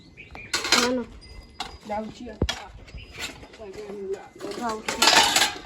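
Metal pots and vessels clattering as they are handled in a home kitchen, repeated irregular clanks and ringing scrapes close by, with people talking between and over the clatter.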